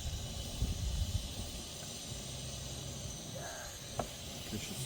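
A double-ham, double-cheese sandwich fries in a small hot frying pan, giving a steady, fairly faint hiss of sizzling with a few soft low bumps and a brief tap near the end.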